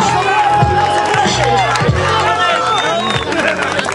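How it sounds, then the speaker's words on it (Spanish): A rap battle crowd at a freestyle competition cheers and claps loudly, shouting voices and whoops layered over a busy roar of applause close to the stage. "¡Aplauso, bro!"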